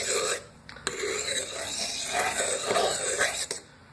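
A Yukon Gear folding knife is sharpened in a run of harsh, raspy scraping strokes, close and fairly loud, with brief pauses between passes.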